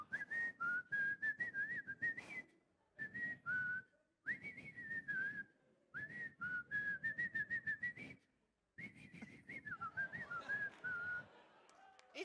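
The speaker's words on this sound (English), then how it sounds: "It's weird that more people don't whistle into the mics during podcasts." A person whistles the Steamboat Willie theme close into a microphone, in quick bouncy phrases separated by short breaths and pauses, clear and prominent with no talking over it.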